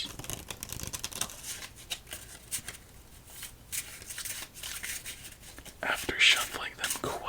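A deck of thick-cut, firm playing cards is shuffled in a quiet ASMR setting, giving soft, close riffling and rustling that runs steadily and swells louder toward the end.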